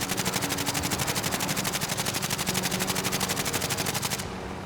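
A helicopter's machine gun in a video game fires a fast, evenly spaced burst of rapid shots that runs continuously for about four seconds before cutting off abruptly, leaving a faint hum.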